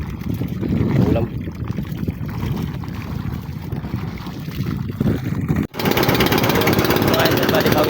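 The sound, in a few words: misfiring boat engine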